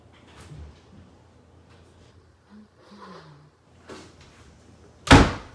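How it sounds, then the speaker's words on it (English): A bathroom door slams shut in a home, one sharp, loud bang near the end after quiet background and faint household sounds. "My son slammed the bathroom door on accident."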